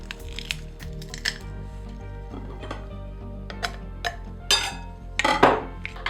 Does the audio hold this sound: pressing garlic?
yes